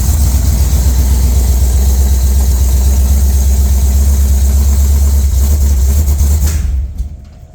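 Cold Jeep engine idling without revving, a loud, close, steady low rumble that holds evenly and then drops away near the end.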